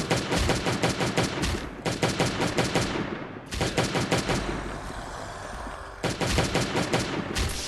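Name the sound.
lab gun firing in Last Day on Earth Survival video game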